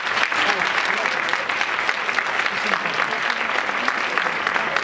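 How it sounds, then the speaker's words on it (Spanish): Audience applause at a women's council inter-association event in Fuenlabrada, a dense, steady clapping from a full room that holds at an even level throughout. "voy a permitirme el lujo de empezar pidiéndoos un aplauso para mí"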